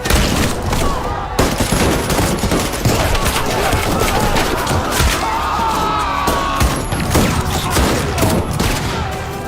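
A sustained volley of rifle fire from fifty soldiers at the Jallianwala Bagh massacre: dense, relentless crackling shots overlap into a loud, continuous roar of gunfire.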